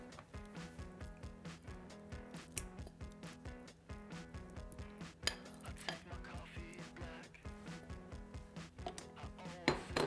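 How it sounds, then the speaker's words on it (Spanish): Cream cheese and sugar beaten in a bowl with a steady run of quick metallic clinks and taps from the utensil against the sides, fairly faint and continuous throughout. "lo que vamos a hacer va a ser batir el queso"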